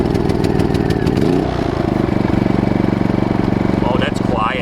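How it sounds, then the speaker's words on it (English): A replacement WEN generator engine, a larger unit with more compression, runs steadily and loud up close, its even chugging pulse continuous throughout with brief higher squeaks near the end; no speech over it. "Oh, it's a bigger engine, I can tell. It's got more compression."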